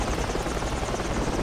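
A helicopter in a combat video game, a steady loud rotor drone and buzz filling the whole moment without letup, close and dominant.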